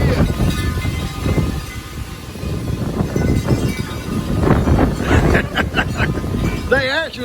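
Gusty wind blowing outdoors as a storm approaches, buffeting the microphone in uneven loud surges with rustling and clattering, ending in a brief warbling chirp.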